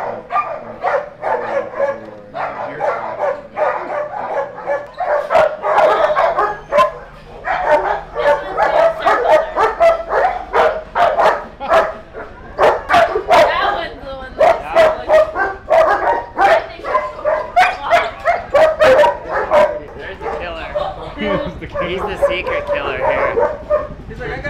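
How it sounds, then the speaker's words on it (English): Many dogs in kennels bark and yip in dense, overlapping bursts, close and loud, with whimpers mixed in; people talk throughout amid the barking. "We're going down to the kennels where all the dogs are."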